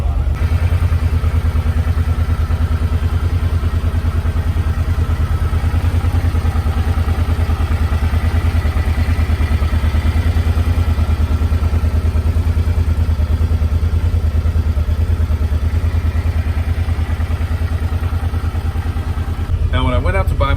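A 2012 Suzuki Boulevard motorcycle with just under 3,000 miles runs at a steady idle, a close, continuous low rumble with faint clatter that holds evenly throughout before tapering at the very end.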